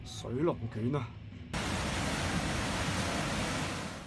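Storm waves and wind from Typhoon Mangkhut in Hong Kong roar as a dense, steady wash of surf noise that starts abruptly after a voice stops speaking and holds loud and unbroken.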